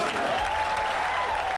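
An audience at the 1994 E3 expo bursts into applause after Sega's representative announces the Sega Saturn price, a steady wash of clapping that cuts off abruptly near the end, with a faint tone running underneath.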